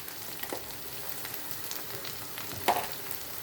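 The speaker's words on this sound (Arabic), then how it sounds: "نحط معاهم معلقه الثوم اهي نشوحها معاهم" Garlic sautéing with sausage in a pan while preparing fava beans, giving a steady soft frying sizzle with a few brief louder spits and stirring clatters, close up and with no talking.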